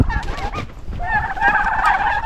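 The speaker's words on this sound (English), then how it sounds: "Bad turkeys, are you guys out of food?" Farm turkeys gobble near a fence and apple bins, a run of warbling gobbles overlapping and growing louder and denser in the second half, with no talk.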